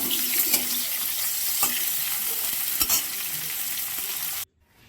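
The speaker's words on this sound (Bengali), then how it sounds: "নুন হলুদ মাখানো ফুলকপি ভালো করে ভেজে নিলাম" Cauliflower coated in salt and turmeric frying in oil, a continuous close crackling sizzle with a few stirring clicks, cutting off abruptly at the end.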